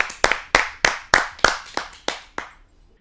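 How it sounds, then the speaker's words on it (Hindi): At a kavi sammelan poetry gathering, an audience claps to welcome a poet. About eight sharp claps come in a steady, even rhythm, each ringing briefly before the next, and fade out near the end. "आइए आप सबकी जोरदार तालियों से स्वागत करते हैं संध्या रानी जी का।"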